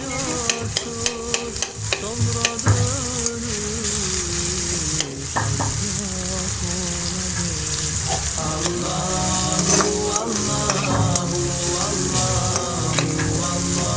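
Chicken samosa filling frying lightly in a pan, a steady close sizzle with frequent stirring clinks and scrapes of a spoon throughout.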